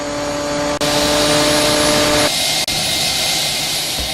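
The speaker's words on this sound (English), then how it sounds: "a two-stage turbine helicopter with a very large rotor span, 8 feet" A two-stage turbine model helicopter with an 8-foot rotor span flies under neural network control, producing a loud steady turbine whine and roar with a few brief dips, heard alone.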